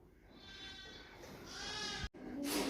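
A young lamb bleats over steady outdoor noise on a farm, a drawn-out wavering call that grows louder toward the end, with a brief sharp break near the close.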